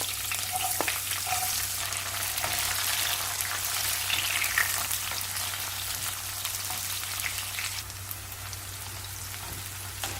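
Chopped onions with green chillies and whole spices such as fennel, cinnamon and bay leaf fry in sesame oil, giving a continuous close sizzle with a few faint clinks and a low steady hum underneath.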